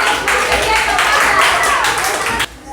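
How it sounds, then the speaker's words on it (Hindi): An audience in a classroom-style math quiz claps for a participant, a steady patter of hands filling nearly the whole moment before cutting off abruptly near the end. "राजेश कुमार के लिए एक बार ताली होना चाहिए"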